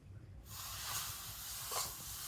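Milk is poured into hot fried semolina and a loud, steady hiss of sizzling and steam bursts out suddenly and holds close and bright, with faint stirring underneath.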